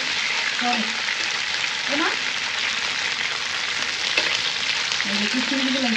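Raisins frying in a pan for a plum and raw mango chutney, a continuous bright sizzle throughout with occasional faint tonal squeaks and stirring noises, no speech.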